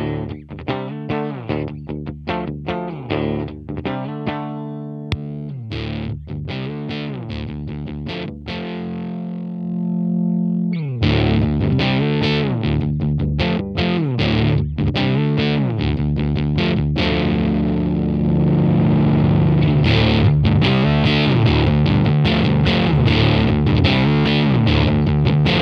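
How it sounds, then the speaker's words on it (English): An electric guitar plays chords and riffs through the full low-end boost channel of a Farm Pedals Bucket of Nails pedal. The tone is thick, distorted and bass-heavy, with strummed bursts and ringing sustained chords, and nobody speaks. "The right channel is a very full boost that retains and emphasizes the low frequencies of your signal."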